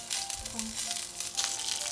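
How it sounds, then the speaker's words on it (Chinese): Stuffed buns sizzle in hot oil in a pan over low heat, a close, continuous crackling fry with small bubbling pops throughout. "油热，放入包好的包子，小火煎至底部金黄，"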